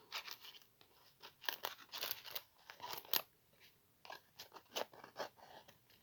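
Glued gift wrapping paper torn open in short crackling rips and crinkles, irregular and close, quiet, with pauses between pulls.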